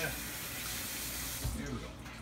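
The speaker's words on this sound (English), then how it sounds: "I gotta wash my hand off." Tap water runs steadily into a kitchen sink while a cook rinses a slick hand partway through making an Irish breakfast, a continuous close splashing wash with a brief louder splatter near the end.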